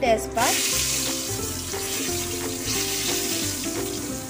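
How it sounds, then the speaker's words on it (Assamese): Bay leaves dropped into hot oil left over from frying potatoes, giving a steady close sizzle that starts with a brief crackling burst and then settles into an even frying hiss throughout. "তেজপাতখিনি দি অকণমান সময় থাকিব দিম"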